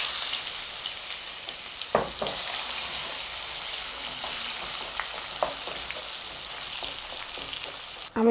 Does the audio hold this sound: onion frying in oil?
yes